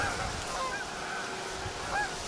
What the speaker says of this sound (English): even with the geese on the ground, they won't come in all the way